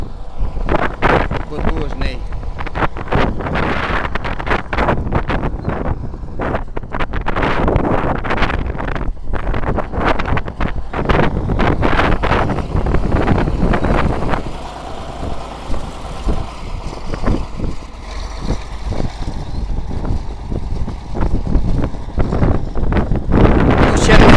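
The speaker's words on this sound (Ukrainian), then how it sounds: "У нас вітер такий." Strong wind roars and buffets the microphone throughout, with gusty rumbling bursts and a low engine-like drone underneath from a tracked T-150 bulldozer tractor.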